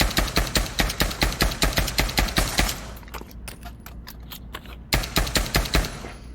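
Rapid, evenly spaced gunshots from pistols in the Pavlov VR shooter crack in a fast rhythm, stop abruptly for about two seconds of quiet handling noise, then resume with another quick burst of loud, close shots.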